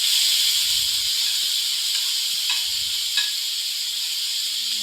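Chicken hits a hot pan with browned garlic and sizzles in a steady, bright hiss. Faint low knocks and clatters from the pan sound underneath.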